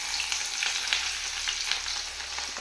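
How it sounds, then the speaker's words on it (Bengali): Chopped onion fries in very hot oil, a loud, steady sizzle and crackle with scattered pops and faint stirring, no talking. "এখন আমি পেঁয়াজটা দিয়ে দেবো গরম তেলে।"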